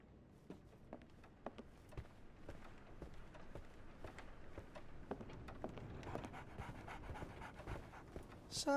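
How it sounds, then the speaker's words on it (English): A dog pants rapidly and steadily in Sherlock Holmes: The Awakened remake, quick breathy huffs repeating close by over a soft background, with faint footstep-like taps mixed in. "So, Barnes has a dog now"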